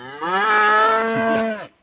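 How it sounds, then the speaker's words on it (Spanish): A single cow moos loudly and close, a long steady low call lasting over a second before cutting off, heard alone in an open field with cattle. "Están ahí abajo unas vacas."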